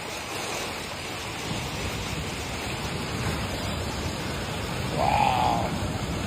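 Water from a very full canal rushes fast through a broken sand berm into the sea, making a continuous broad rushing wash that swells slightly near the end.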